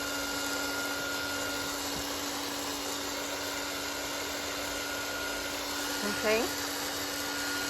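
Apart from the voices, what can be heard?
electric heat tool drying paint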